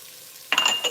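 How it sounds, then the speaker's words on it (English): Onions hit a hot pan halfway through with a sudden loud sizzle that keeps crackling and hissing up close, along with light stirring clatter. "So let the onion turn light golden in color"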